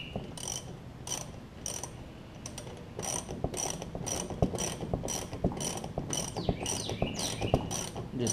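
Repeated ratcheting clicks from a wrench tightening a nut on the engine of a Craftsman LT4000 tractor, coming in short rhythmic bursts with brief pauses, close and clear, no talking.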